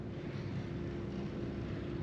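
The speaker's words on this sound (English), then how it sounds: "Sounds like there's like a tractor or something driving by outside." Outside a campsite, a vehicle that sounds like a tractor drives by with a steady, droning engine rumble that fills the whole clip without a break.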